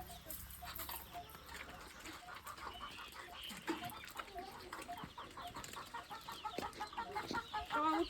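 Chickens cluck and squawk repeatedly amid a busy outdoor background on a village farm in summer, with some faint voices and clatter mixed in.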